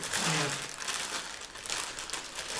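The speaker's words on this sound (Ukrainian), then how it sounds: "Ти що, будеш відклеювати скотч?" Crinkling and rustling of wrapping paper and tape being peeled from a gift at a family evening celebration, a fairly quiet continuous papery crackle with faint voices in the background.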